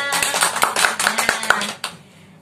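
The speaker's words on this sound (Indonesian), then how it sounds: "Tepuk tangan buat kita semua." A group in a counselling class claps together in a quick, even rhythm, about a dozen sharp claps in a row that stop abruptly, followed by a single late clap.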